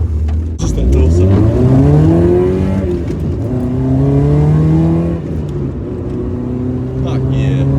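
A slammed Nissan S13 Silvia Q's with an SR20DE engine pulls away and accelerates, its engine note climbing steadily through the gears, loud and close from inside the car, while people talk over it.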